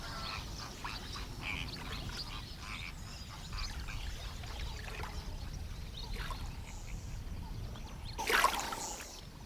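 An elephant showers itself with water drawn from its own internal supply on a hot day far from a waterhole, giving steady splashing and spraying over outdoor ambience, with a louder, brief gush near the end.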